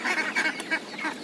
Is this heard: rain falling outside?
no